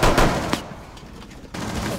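Shotgun fire in the Rainbow Six Siege video game, with several sharp, loud blasts spread over two seconds and no speech.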